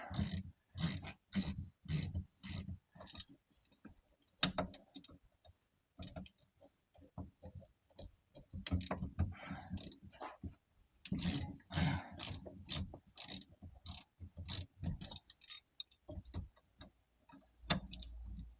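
A power ratchet working on an E30 differential: quiet, rapid bursts of ratcheting clicks in short irregular runs separated by brief pauses, close up.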